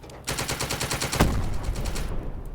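A tank turret fires a rapid burst in the military strategy game The Troop, a dense run of sharp, evenly spaced shots lasting about two seconds, loud and close, with one heavier blast in the middle.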